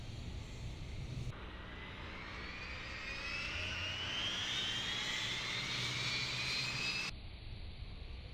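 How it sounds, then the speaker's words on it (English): A jet engine spools up in the Prepar3D v4 flight simulator during an engine start on a Dash-style airliner at Dublin, its whine rising steadily in pitch over several seconds above a low rumble, loud and continuous, then cutting back abruptly. "Clear to start engines."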